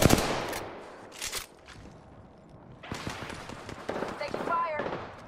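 Rapid gunfire bursts in a video game rattle in short clusters, with game voices calling out over and between the shots.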